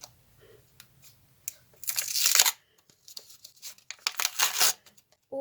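A paper packet being torn open by hand, two loud, close ripping bursts separated by softer rustling and crinkling of the paper.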